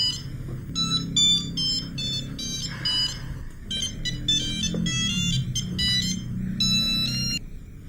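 A phone rings with a bright electronic ringtone, repeating trilling bursts in a steady pattern with short pauses, loud and close, over faint room background.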